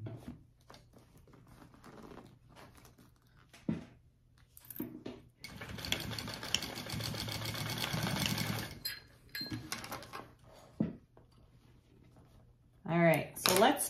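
A sewing machine bastes fabric for a hobo bag in a burst of rapid stitching lasting a few seconds, set between quieter handling noises and brief speech.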